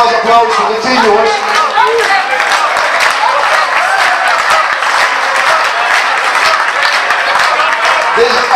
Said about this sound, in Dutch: Nogmaals applaus voor de 3 jongens